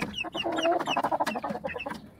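Hens cluck and chatter nearby while being given feed, a quick run of overlapping clucks and short calls with no talk over them.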